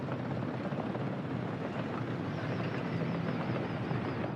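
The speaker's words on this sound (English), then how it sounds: "The helicopter did its first piece of work." A helicopter in the city-building game Workers & Resources drones steadily with a dense, even rotor chop, constant and moderately loud with no talk over it.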